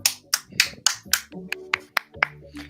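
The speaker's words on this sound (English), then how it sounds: "let's give a round of applause for their achievements" Audience clapping for the 2021 Foothill College graduating class at an award ceremony, a short run of distinct sharp claps at an uneven pace, close and fairly loud.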